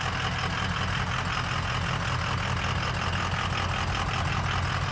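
A 2004 Ford F350 Super Duty four-wheel-drive truck with a 6.0 turbo diesel V8 idles close by, a steady, loud low rumble with constant clatter and no voices.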